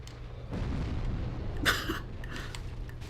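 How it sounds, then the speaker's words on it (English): A shockwave attack in Dark Souls Remastered lands as a single muffled boom with a brief bright burst, rising over a steady low rumble of game ambience. "I was sure I was gonna get hit there with the shockwave attack"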